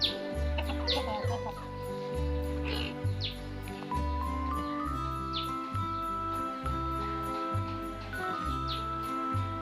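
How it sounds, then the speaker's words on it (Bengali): Chickens cluck and squawk repeatedly close by, with rhythmic low thumping and a steady background hum throughout. "মুরগি"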